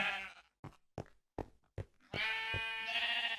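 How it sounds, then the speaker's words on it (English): Blocky sheep in a Minecraft wool farm bleat in short bursts, several quick separated calls followed by a longer, louder bleat, with no talking over them. "All my different colored sheep."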